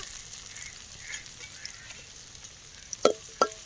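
Onions and curry leaves sauté in a pan at an outdoor forest cooking spot, giving a steady, fairly quiet sizzle with two sharp clatters near the end and no voices.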